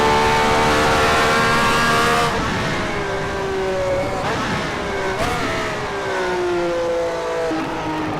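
A Formula 1 car in a video game screams at high revs, its engine pitch climbing steadily, then dropping sharply at each gear change before rising again, loud and continuous.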